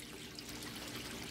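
Warm water poured into a goldfish tank as new fish are added, a steady close trickling and splashing flow lasting the whole moment without pause.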